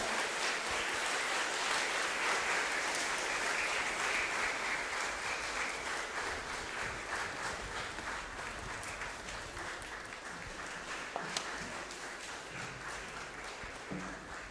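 An audience at a music school's end-of-year concert in Jūrmala applauds at length, a broad, steady clapping from the hall that eases slightly in the second half, with a few louder individual claps standing out.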